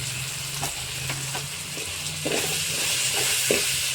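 Tomatoes frying in a pan for bisi bele bath, a steady broad sizzle with scattered stirring scrapes, close and alone with no talk.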